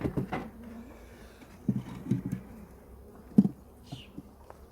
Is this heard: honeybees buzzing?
yes